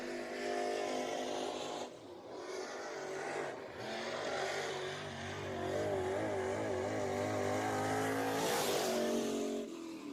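A race car on a qualifying lap at Deep South Speedway drones with a steady engine roar. The pitch rises and falls as it works around the track, holding a fairly even, moderate level the whole time.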